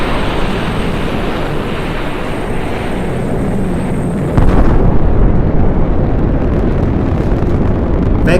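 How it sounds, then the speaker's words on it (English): A small toy rocket lifts off with a loud, sustained roaring blast that suddenly grows louder and harsher midway, then continues as a steady rushing roar. "launch ignition sequence, 3, 2, 1, liftoff!"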